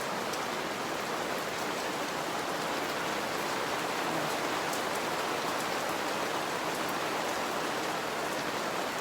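Steady, heavy rain pours down in a dense, even hiss that lasts throughout with no pauses.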